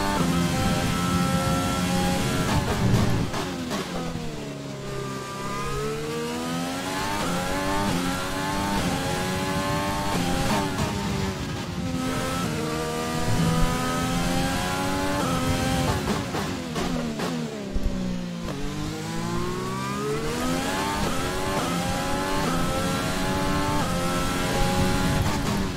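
A Renault-powered Formula 1 car in the F1 2020 racing game, its engine screaming loud and close as it revs up through repeated gear changes with rising and falling pitch sweeps over about twenty-five seconds, no talk.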